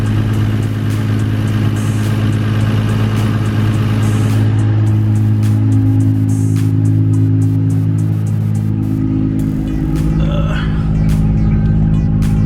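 A Nissan R32 GT-R engine fitted with an Apexi Power Intake runs loud and close, holding a steady idle with intake noise before revving.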